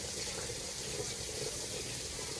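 Water runs steadily from a kitchen tap in a continuous, even hiss, close and fairly loud, with no talking.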